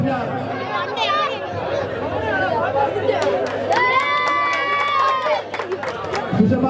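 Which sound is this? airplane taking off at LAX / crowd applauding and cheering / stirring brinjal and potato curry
crowd applauding and cheering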